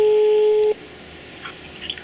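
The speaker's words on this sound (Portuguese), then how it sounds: "vamos ligar pro Ricardo" A telephone call tone plays while calling someone: a single steady electronic beep lasts under a second, then cuts to quiet line hiss with faint noises.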